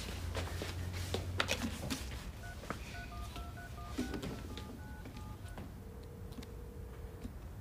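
A telephone number is keyed in as a quick run of short dial tones, ending in one longer steady tone, faint in a quiet indoor room with a few soft clicks and knocks and no talking.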